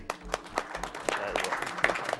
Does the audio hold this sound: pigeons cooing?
no